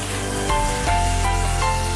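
Ground spice paste sautés in a hot pan, a steady close sizzle with faint stirring scrapes over it, with no talk.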